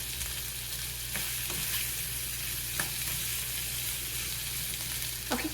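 Tomatoes sizzle in a skillet alongside peppers and jalapeno, a soft, steady frying hiss with a few light clicks of stirring, close but fairly quiet and with no talking.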